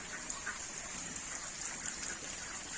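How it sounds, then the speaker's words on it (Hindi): Gentle rain patters continuously at low volume on a poultry farm, a fine steady hiss with occasional soft drops standing out. "धीरे धीरे बारिश हो रही है।"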